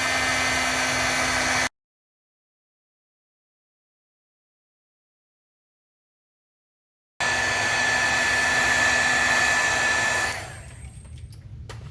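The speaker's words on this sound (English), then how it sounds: "I'm going to dry this with my dryer because I need to speed things up." Loud, steady whir of a hair dryer running close by, drying watercolor paint, cutting out abruptly, then starting again before its pitch drops and fades lower.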